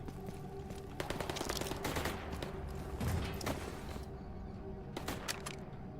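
Rapid gunfire from a 9mm AUG in a video game comes as bursts of sharp cracks at moderate distance, with a heavy volley near the middle before the shots thin out, all over a low background rumble.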